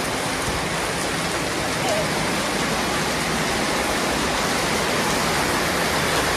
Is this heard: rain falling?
yes